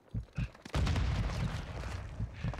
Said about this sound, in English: Friendly airstrike in the AO.